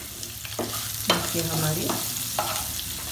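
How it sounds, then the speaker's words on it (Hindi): Tempering sizzles in a pan of lauki muthiya (bottle gourd dumplings) while a spoon stirs, giving three or four close scraping strokes over a steady frying hiss, with no talk. "तड़का भी लग गया है और हिला दिया इसको अच्छे से"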